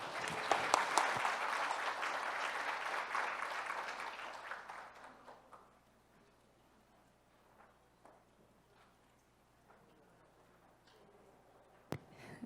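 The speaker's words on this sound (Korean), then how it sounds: "큰 박수 부탁드립니다" An audience at a district forum on parking issues bursts into loud applause that holds for several seconds, then thins into scattered claps and fades into quiet room noise.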